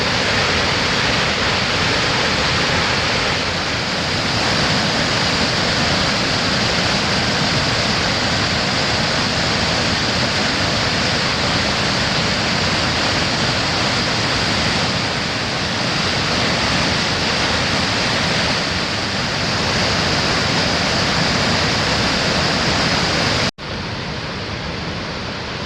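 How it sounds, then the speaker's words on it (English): A gorge waterfall in northern Maine, close to 100 feet across, thunders in a dense, unbroken roar that stays loud and constant throughout, with no voices heard. "We made our way to the top of the waterfall."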